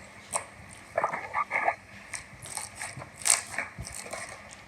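Store-bought Walmart slime is squished and pressed by hand in close, irregular bursts of soft sticky clicks and crackles separated by short pauses.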